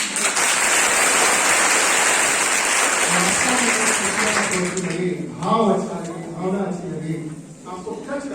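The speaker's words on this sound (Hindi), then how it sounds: "ताली" A Women's Day audience claps after a Hindi poetry recitation, with steady, dense applause that fades after a few seconds as a voice begins speaking over the last scattered claps.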